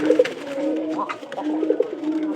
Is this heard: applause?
no